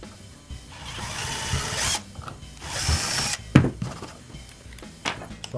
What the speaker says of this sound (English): So let's grab our small drill and drill bits.